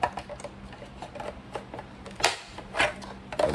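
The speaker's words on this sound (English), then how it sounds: "You hear it? You pop the screws." Screws popping loose from an LED light fixture being pried apart, giving a series of sharp clicks and snaps spread irregularly over a few seconds, close and fairly quiet, with a couple of louder pops near the end.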